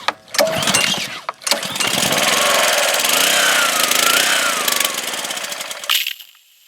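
A gasoline pressure washer engine cranks and catches, roaring loud and close for several seconds before dropping away, with a brief sputter near the start.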